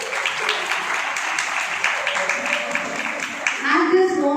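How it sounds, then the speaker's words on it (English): A school Independence Day celebration audience gives students a long, dense round of applause. The clapping holds steady and thins near the end as a voice begins to come through. "let us give a very big round of applause."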